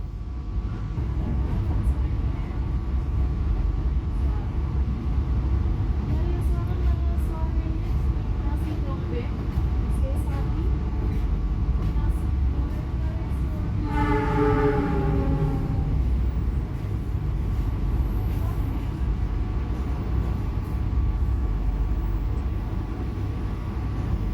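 A steady low rumble of a train passing through Semarang Tawang station without stopping, with a rising horn-like tone briefly sounding midway; speech is faint beneath the rumble.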